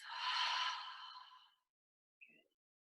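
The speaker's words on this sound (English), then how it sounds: "Exhale through the mouth." One long, soft breath pushed out through the mouth during a calm yoga breathing exercise, fading out after about a second and a half, then a brief faint breathy sound after a pause.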